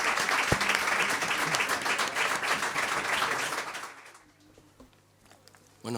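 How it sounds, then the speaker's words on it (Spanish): Audience at a folk concert breaks into loud, dense applause that carries for several seconds and then fades quickly to scattered claps and room quiet. "Un aplauso para vosotros también."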